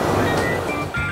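Ocean waves wash onto a sandy, gently sloping shore at Bimini Beach on Ocean Cay, a short loud burst of surf with a breaking swash near its end.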